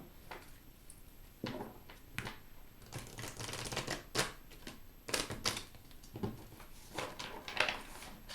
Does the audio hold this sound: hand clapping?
no